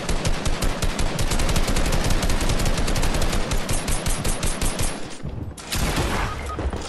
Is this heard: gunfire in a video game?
yes